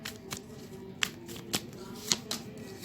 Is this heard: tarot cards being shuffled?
yes